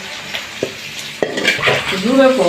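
Fish dropped into a pan for cooking with taro stolons (loti), with a few utensil knocks and stirring, then a rising sizzle of frying that grows louder and steadier toward the end.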